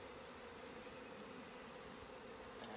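Honey bees being moved from a nuc box into a long hive, giving a faint, steady, low buzzing hum throughout with no pauses.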